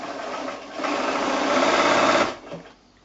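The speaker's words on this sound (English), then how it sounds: "I might just do a little back stitch over the join bit," A sewing machine back stitches over the join in a fat-quarter pocket bag, a close buzzing whir that speeds up, holds steady for about two seconds, then slows and stops.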